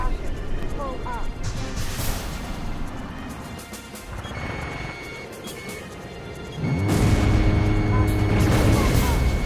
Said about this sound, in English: Damn, they've got cannons.